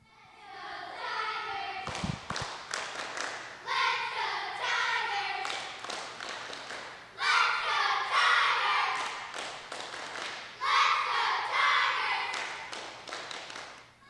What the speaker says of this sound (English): I think they have a cheer that they want to show us